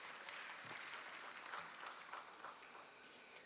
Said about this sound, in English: So let's give him a warm round of applause.